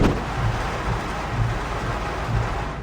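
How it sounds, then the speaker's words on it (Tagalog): Heavy rain pours steadily in Camarines Norte, Philippines, in a dense, hissing roar, loud and continuous with no voices. "ramdam na ang malakas na buhos ng ulan"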